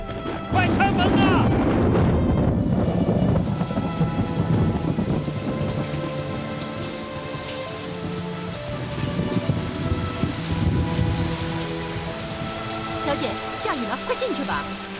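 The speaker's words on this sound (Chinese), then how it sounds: "下雨了" Steady rain with rumbling thunder fills a dramatic outdoor scene, loud and continuous throughout, with voices and music-like tones over it.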